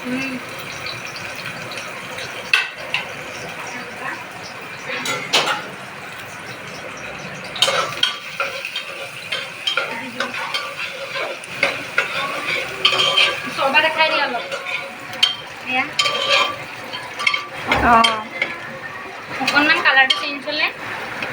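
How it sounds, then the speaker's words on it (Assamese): Sliced onions sizzle in ghee in a pan, with a soft frying hiss and scattered clinks and scrapes from a spoon stirring against the metal, close and fairly quiet. "এতিয়া আমি ইয়াত দিম অনিয়নখিনি দি দিছোঁ। এয়া অনিয়ন দিছে, স্লাইচ কৰি দিওঁ, অনিয়নখিনি দি দিছোঁ।"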